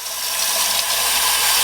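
Hot water runs from a tap in a steady, close, continuous hiss of flowing water, loud and unbroken with no voices.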